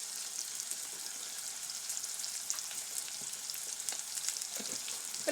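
Oil sizzles softly in a pan with turmeric added while making mango pickle, a faint, continuous crackle with scattered small pops and no voices.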